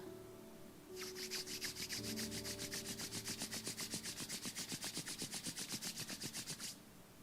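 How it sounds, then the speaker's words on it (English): Palms rub briskly against each other in a quick, even rhythm of many close strokes, producing a dry, soft swishing that continues for several seconds and then stops. "Gently start rubbing your palms against each other, create some warmth."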